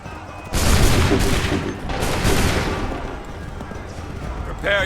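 Soldiers fire a musket volley in Assassin's Creed 3, a loud ragged fusillade of overlapping shots that rolls on for a few seconds with a second burst, heard close and under shouted commands.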